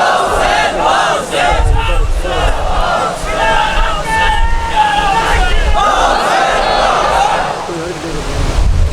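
A large crowd at a religious gathering shouts a chant in unison, loud massed voices rising and falling in repeated waves, with a lone voice calling out between them.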